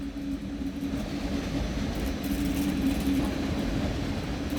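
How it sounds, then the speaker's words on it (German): An ICE-T train, class 411 ICE Jena, moves through Munich Hauptbahnhof with a steady low rumble and faint hum, moderately close and continuous throughout. "Und jetzt kommt noch ein ICE-T,"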